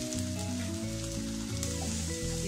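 Grated coconut sizzles steadily in hot coconut oil with curry leaves for coconut rice, a continuous close crackle heard under a steady, stepped musical backing.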